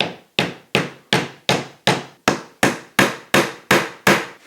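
A wooden drawer piece is tapped into place by a hammer striking through a wood block: twelve sharp, evenly spaced knocks, each ringing briefly before the next, close and loud with no talking.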